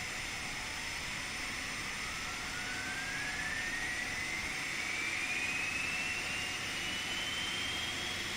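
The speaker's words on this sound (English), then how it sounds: "I do love that sound of that bleed valve opening." An Airbus A321neo engine spins up in a flight simulator, a faint rising whine climbing steadily over a constant, hissing roar as the bleed valve opens, with no voices.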